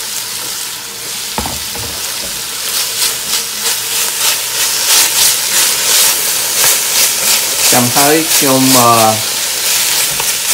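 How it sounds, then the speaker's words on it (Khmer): Chicken stir-fried with pineapple and cabbage in a hot pan, a loud continuous sizzle and hiss with rhythmic scraping of a spatula, and a person speaks briefly near the end over the frying. "ដាក់ម្នាស់ ហើយនឹងស្ពៃក្តោបចូលពីឆាវានៅក្នុងរយៈ3ទៅ4មិនុត"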